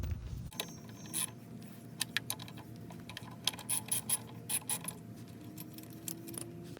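A ratchet works a 13 mm bolt loose on a 2006-2010 BMW 6 series E64 during a rear quarter window regulator repair. Quiet, close, irregular clicks and small metallic clatters come in short bursts, with no talk.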